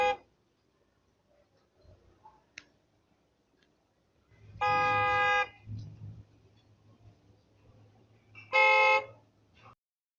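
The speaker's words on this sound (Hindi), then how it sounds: "अभी तो निदा बाग में ही थी कि गाड़ी की आवाज आई।" A car arriving in a children's Urdu story is announced by two short, loud horn honks a few seconds apart, set against an otherwise quiet background with faint low rumbling between them.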